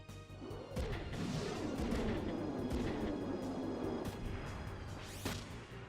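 Missile launches and impacts in Front Mission 3 come as a series of sharp cracks and crashing booms over a whooshing sweep, moderately faint, with a last bright burst near the end.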